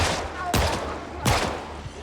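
Two sharp gunshots from a firearm in the zombie survival game Project Zomboid, spaced under a second apart, loud and close, with faint background murmur between them.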